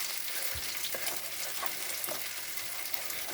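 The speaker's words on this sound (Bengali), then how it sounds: "তো এখন মশলাটা আমি ভালো করে কষতে দেবো।" Spice masala sizzles steadily in a pan over a low flame while being cooked down for a Bengali dhokar dalna, with a constant hiss broken by a few soft stirring scrapes and no voices.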